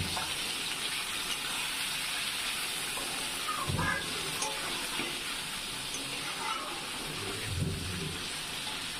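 Beef and onions frying for beef do piaza, a steady close sizzle with occasional soft thuds and scrapes as the pan is stirred, no voices.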